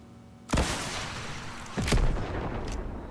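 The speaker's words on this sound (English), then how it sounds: "Another hit with the rocket launcher." Rocket launcher impacts in Fortnite: two loud booming blasts about a second and a half apart, each with a rumbling tail, and a fainter crack near the end.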